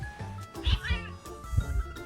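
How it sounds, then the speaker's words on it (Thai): A cat meows in the mobile game Identity V, with a rising, wavering call heard close and clear amid game sounds and low thumps, while someone talks excitedly over it. "ได้ไหมแมวมาแล้วนะ"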